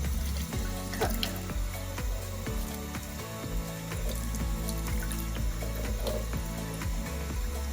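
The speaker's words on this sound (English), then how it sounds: "I'm gonna try to rinse it until the water runs clear." Tap water runs steadily into a kitchen sink as rice is rinsed, with a continuous splashing stream and small clinks and knocks from handling the grains and bowl.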